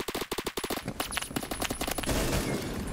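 Rapid automatic gunfire in the video game Phantom Forces, a dense string of loud close shots in fast bursts that blur into a continuous rattle toward the end.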